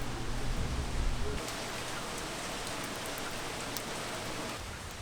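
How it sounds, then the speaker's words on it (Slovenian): Early-morning rain falls outdoors as a soft, steady hiss, with a low rumble at the start that fades, continuing evenly and moderately quiet throughout. "Oh moj bog, dežuje."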